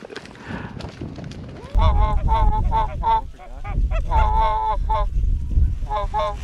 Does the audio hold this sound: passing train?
no